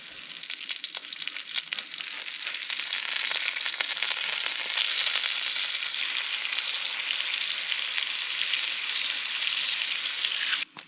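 Steady, dense sizzle of burgers, potatoes and bacon frying together over a campsite cooking setup, loud and continuous throughout with faint crackles, no voices.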